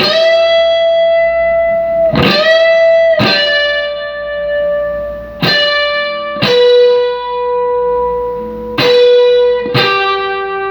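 Distorted electric guitar plays sustained, singing notes with sharp picked attacks, several notes sliding and bending in pitch, loud and alone without any talking.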